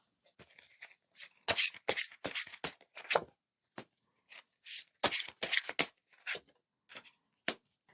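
Tarot cards being shuffled close by in a quiet room, a series of crisp riffling and flicking bursts with brief pauses and no talking.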